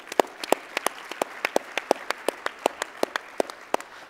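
Applause at an awards ceremony, though only a few hands are heard, with sharp, evenly spaced claps forming a sparse, rhythmic patter over a quiet hall.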